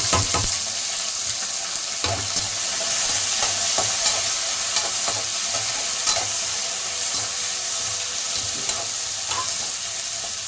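Sliced onion and green chilies sautéing in hot oil, a loud steady sizzle close by, punctuated by repeated clicks and scrapes of a spatula stirring the pan.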